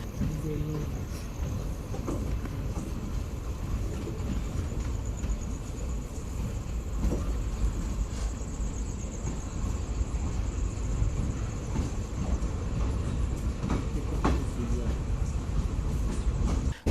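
Train No. 17662 pulling away from Talamadla station after a short halt, a steady rumble with faint rhythmic wheel clicks heard from inside the coach, continuous and moderately loud.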